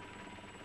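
Broadband rotor and engine roar from inside a helicopter flying with its door open above rocky mountain terrain near Gavarnie, a steady, loud wash of noise close by with no talk.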